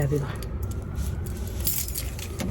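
A bunch of house keys jangles and clinks continuously at close range over a steady low rumble of background noise.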